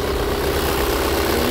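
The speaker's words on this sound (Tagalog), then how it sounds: "tinan nyo ang tunog ng makina na naka-Aero Metal Guard" An old vehicle's engine fitted with an Aero Metal Guard idles steadily, a loud, even low hum and rumble with no pauses or speech.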